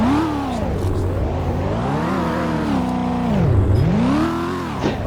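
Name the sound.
car engine in the video game Car Crash Sim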